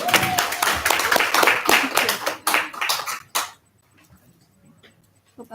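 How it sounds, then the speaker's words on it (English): An audience applauds for a speaker at an education talk, dense clapping for about three and a half seconds that breaks into a few scattered claps before fading to near silence. "Come on, give a round of applause."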